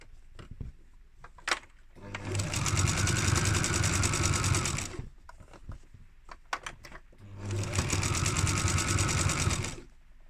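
A sewing machine stitches down a pyjama waistband in two sustained bursts of rapid, steady whirring, each a few seconds long, close by, with quiet pauses and light handling clicks between them.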